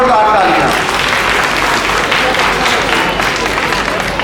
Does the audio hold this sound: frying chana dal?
no